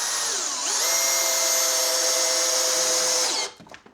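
A cordless power drill drives a screw into a thin metal hull plate bracket on a sailboat, a loud close whine rising in pitch, holding steady for a few seconds, then stopping abruptly with a few light clicks.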